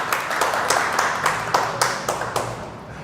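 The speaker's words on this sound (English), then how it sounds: "please, round of applause to welcome Josh" Scattered hand clapping from an event audience welcoming a guest at a startup talk, fairly close and steady with distinct individual claps, no voices over it.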